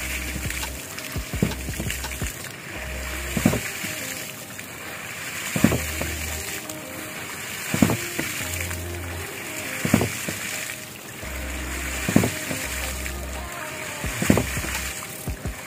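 A 4-inch hydraulic ram pump runs with water, giving a steady rushing gush broken by regular loud thumps of the pumping cycle roughly every two seconds.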